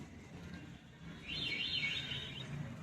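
Teddy pigeons kept as top-quality show birds, giving faint soft chirping calls in the background over low room noise, with a brief brighter burst of chirps partway through.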